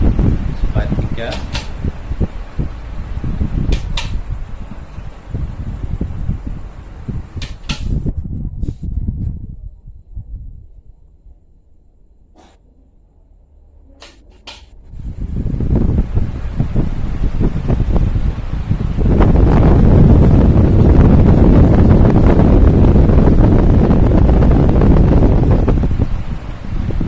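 A repaired electric fan runs at speed 1 with a strong whooshing rush of air. The noise fades to near quiet midway, then returns louder, broken by scattered clicks.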